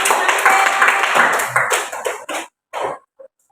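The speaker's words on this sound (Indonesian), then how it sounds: "Tepuk tangan." Children in a classroom clap together, a quick burst of close, uneven hand claps that breaks into a few scattered last claps and then stops.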